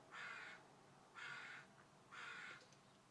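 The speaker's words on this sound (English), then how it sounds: "My crow friend is back on my balcony." A crow caws from a balcony in three harsh, evenly spaced bursts, each about half a second long and fairly close, with quiet background between calls and no talking.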